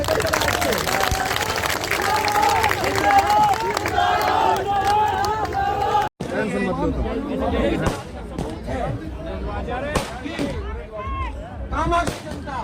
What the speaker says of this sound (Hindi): पूरे इलाके जोरदार तालियों से गड़गड़ाहट से।